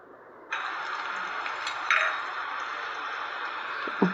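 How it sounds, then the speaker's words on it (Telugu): Ivy gourd fry with garlic being stirred in a pan, giving a steady sizzling hiss with a few light clinks of a spoon against the pan, close and fairly loud, no talking. "వెల్లుల్లిపాయలు వేసుకొని మళ్ళీ ఒకసారి బాగా మిక్స్ చేసి కలుపుకోవాలి."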